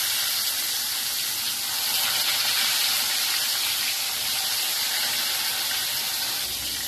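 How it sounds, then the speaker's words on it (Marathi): Fish sizzling in hot oil in a kadhai, a steady bright hiss and crackle holding evenly throughout with no voices. "एक एक मच्छी आता मी फ्राय करून घेणार"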